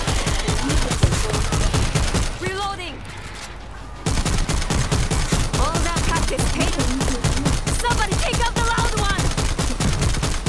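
Rapid, steady bursts of automatic gunfire in World War Z's Tokyo co-op mission, shooting through a gate at a zombie horde; loud and close, with a brief lull midway and voices talking over the shots.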